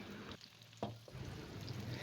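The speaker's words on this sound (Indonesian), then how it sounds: "kita tumis terlebih dahulu 3 siung bawang merah irisnya" Sliced shallots sizzle and crackle in hot oil in a pan, a steady frying hiss with a brief dip and a couple of stirring clatters, close by and with no speech.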